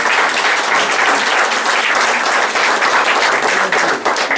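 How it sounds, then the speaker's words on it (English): Loud, dense applause from Monmouth County committee people at a Democratic house party in Middletown, a continuous close wash of many hands clapping throughout with no pause. "I'd like you all to give yourselves a nice round of applause"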